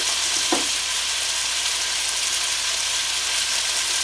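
A thick piece of chicken fries in a pan with a steady, loud, dense sizzle that hisses without pause. One brief soft knock comes early on, and no one talks.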